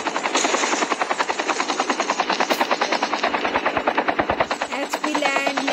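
A video-game helicopter's rotor beats in a fast, steady chop close by, loud and continuous throughout.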